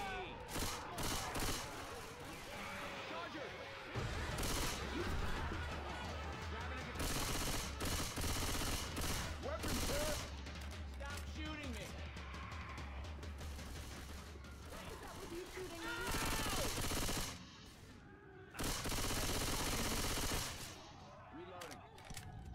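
Sustained automatic gunfire in Left 4 Dead 2 rattles on in long, dense bursts with brief gaps, loud and close, while voices talk at times over the shooting.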